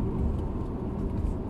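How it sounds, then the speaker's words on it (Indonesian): A Tesla Model 3 Performance cruises the Bintaro toll road, giving a steady, loud cabin rumble of road and tire noise with a faint electric whir throughout. "sekarang kita lihat bagaimana mobil ini berkendara di jalan tol"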